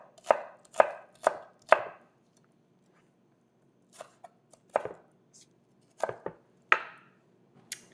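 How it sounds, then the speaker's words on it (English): A knife roughly dicing a halved onion on a cutting board, heard as a quick run of four sharp chops, a pause, then a few scattered sparser chops, close and clear with no talking. "you're just gonna cut it in half and roughly dice it"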